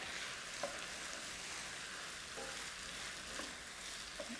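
Sherry bubbles hard in a hot pan while a utensil scrapes stuck bits off the bottom, a dense, even sizzle with occasional faint scrapes and taps.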